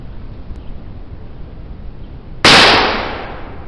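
A single sharp rifle report from an 1861 Springfield rifled musket fired at a stump outdoors, loud and sudden with a short ringing decay after quiet ambient background.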